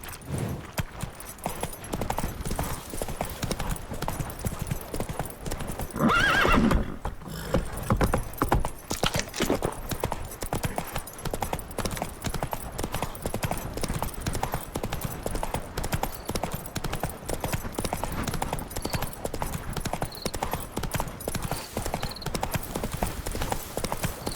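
A horse gallops in The Witcher 3, its hooves drumming in a fast, continuous rhythm that stays close and loud throughout, with a brief surge of extra noise partway through and faint speech.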